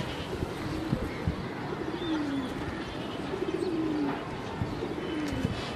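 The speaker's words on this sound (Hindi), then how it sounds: "और फाइनली दोबारा आ रहे हैं इनके कबूतर" Pigeons at a loft cooing softly, a few drawn-out low coos repeating in the near distance over steady outdoor background noise.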